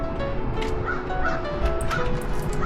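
A dog barks in short, repeated yips over a steady background hum, the calls fairly close and moderately loud.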